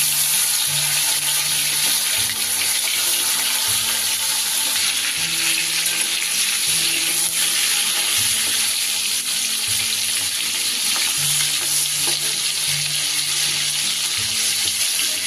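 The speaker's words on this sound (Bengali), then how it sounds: "সবার প্রথমে আমি কাঁকড়াগুলোকে ভেজে নেব।" Crabs frying in hot mustard oil on a gas stove: a steady, loud, broadband sizzle with a watery, hissing texture that runs unbroken throughout, no voices.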